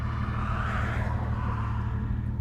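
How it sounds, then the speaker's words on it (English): Cars speeding past at high speed on a busy rural road beside fenced pasture, heard as a steady, loud traffic roar with low rumble continuing throughout, no talk. "you can hear how fast the cars are going on this road"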